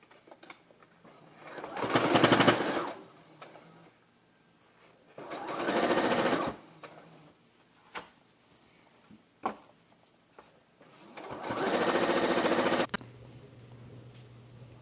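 Three bursts of a domestic sewing machine stitching the seams of a baby frock with puff sleeves, each run of rapid whirring a couple of seconds long, separated by quiet pauses and small clicks.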